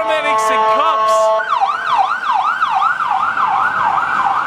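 Emergency vehicle siren on a Las Vegas street, starting as a steady electronic wail with high tones and then switching to a fast, repeated yelp that sweeps up and down. It sounds loud and close over constant traffic noise.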